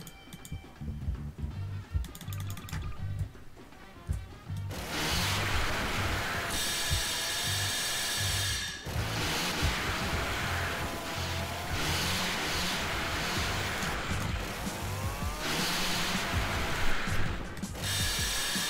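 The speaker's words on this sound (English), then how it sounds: "And this is chainsaw for you." A chainsaw weapon in the Garry's Mod video game revs and grinds in loud, sustained bursts after a few seconds of quieter mechanical clicking, with no talking.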